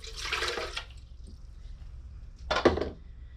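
Water pours in two short bursts into a bread machine pan, a close splashing gush, a pause, then a second brief pour.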